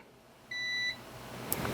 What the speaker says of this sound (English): You hear that beep? That means that the wires are connected.